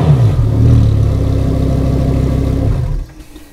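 Lamborghini Huracan STO in standard exhaust form, with a loud, steady, deep engine and exhaust roar that holds for about three seconds, then drops off abruptly to a quieter tail.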